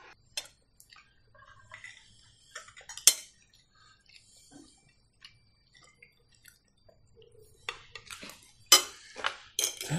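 Plates and cutlery clink and clatter on a table in scattered bursts, with sharp clanks near the end and quiet pauses between.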